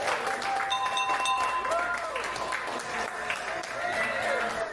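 Applause rises around a patient at the American Cancer Society's Hope Lodge as he rings the bell ending cancer treatment, steady moderate clapping mixed with voices and crowd murmur, with faint bell-like ringing tones drifting through.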